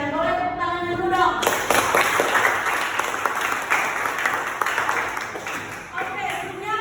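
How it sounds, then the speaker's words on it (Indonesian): A classroom audience claps for a student talk show roleplay about fashion, broad dense applause that starts after a brief stretch of voice, holds steady throughout and fades near the end. "Boleh tepuk tangannya dulu dong"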